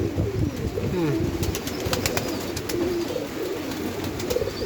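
Pigeons coo in low, throaty, repeated calls nearby, with a few light clicks and rustles in the background.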